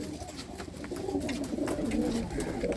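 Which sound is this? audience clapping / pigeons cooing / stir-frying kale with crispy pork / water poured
pigeons cooing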